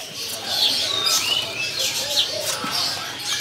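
A cucak keling songbird in a bird shop gives bright, short chirps and whistles at close range, repeated irregularly over a low background hum, with someone speaking softly at times.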